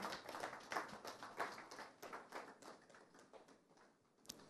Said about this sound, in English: Let's keep clapping as he gets here.